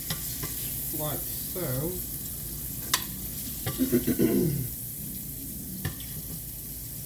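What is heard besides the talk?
liver sizzling in frying skillet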